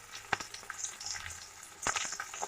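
Peeled pointed gourd (patol) frying over a low flame in a pan, giving a soft, steady sizzle with a few sharp spatters and clatters near the start and end.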